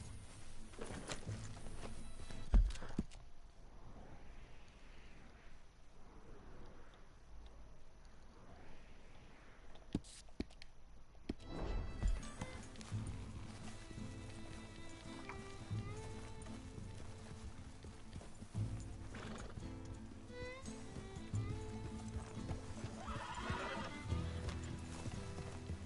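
Horses in Red Dead Redemption 2 whinny and neigh while hooves clip-clop at a walk, a steady game soundscape with loud snorts and hoofbeats throughout.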